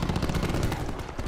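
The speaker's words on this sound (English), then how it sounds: "Right here I hear gunshots" Rapid gunfire in a first-person shooter match of Control mode on the Gridlock map, dense overlapping shots and bursts filling the whole moment at close range with no talk.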